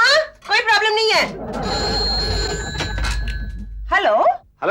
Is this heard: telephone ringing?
yes